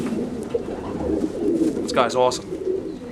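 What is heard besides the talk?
racing homer pigeon cooing while handled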